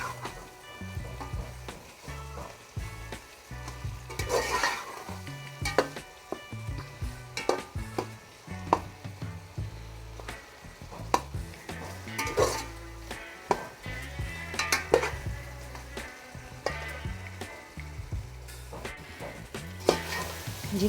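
Chicken and spices are stir-fried in a pot. A low sizzle runs under repeated scraping and knocking strokes of a spoon against the pot, close and moderately loud, with no voices.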